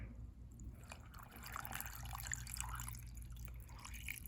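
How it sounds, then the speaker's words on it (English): Water poured into rock tumbler barrels gives a soft, steady trickle and dribble, close by and faint, with no talking over it. "I'll fill it up with the water about that much, maybe a little bit more"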